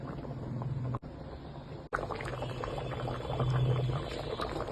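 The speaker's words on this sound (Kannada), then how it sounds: "ಈಗ ಮೀನು ಕುದೀತಾ ಇದೆ." An Anjal (seer fish) curry simmers in a pot, a quiet, continuous bubbling and gurgling close by, broken by two brief dropouts near the start before the low boil resumes steadily.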